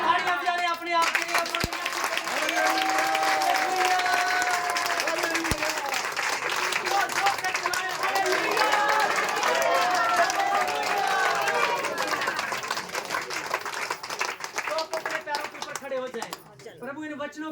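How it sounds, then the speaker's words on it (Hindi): A congregation at a Christian worship service claps together in sustained, dense applause that fills the whole stretch at an even loudness, with voices and ringing tones mixed in beneath it. "तालियां बजाएं अपने आप के लिए।"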